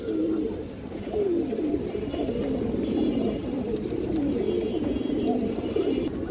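Indian high-flyer pigeons coo in low, rolling phrases that overlap and repeat without a break, close by and fairly loud, with faint chirps in the background.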